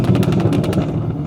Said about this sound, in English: It pops some bangs as well.